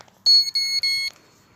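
An electronic carp fishing bite alarm at a pond beeps in a few short, loud, high-pitched bursts, then falls silent.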